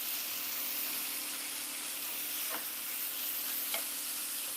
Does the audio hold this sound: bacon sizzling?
yes